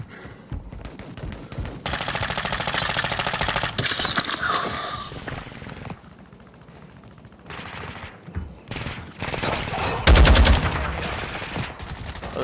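Rapid automatic gunfire bursts in the Warzone 2 video game, loud and repeated with short pauses between volleys, plus a heavier blast near the end.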